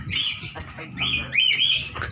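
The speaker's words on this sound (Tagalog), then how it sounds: "Na mga ibang ibon, nag-iingay na." Cockatiels in a small aviary give several shrill, close chirps and squawking calls in quick irregular bursts, with faint background noise between them.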